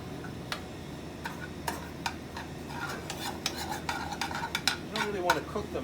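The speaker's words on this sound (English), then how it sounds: "So I'm going to add some panko crumbs to the butter. And we're just going to kind of toss that around." A spoon stirs and tosses panko crumbs through melted butter in a pan, steady scraping with sharp clinks of utensil on metal over a soft sizzle, close and continuous.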